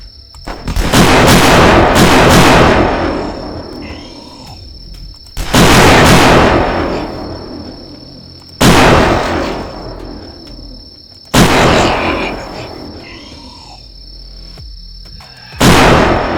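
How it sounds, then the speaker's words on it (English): Rifle gunfire in the video game Last Stand: five loud, sharp shots, each with a booming tail that decays over a couple of seconds, evenly spaced, with a faint steady high tone underneath. "See, this one's more powerful than the hunting rifle we had."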